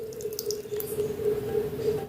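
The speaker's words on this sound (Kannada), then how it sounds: "ಅದಕ್ಕೆ ನಾನು ಸ್ವಲ್ಪ ನೀರು ಹಾಕಿಕೊಳ್ತಿದ್ದೇನೆ" Water trickles into a bowl of Bombay rava semolina mixed with thick curd for bun dosa batter, a short, steady, close pour with a light liquid drip.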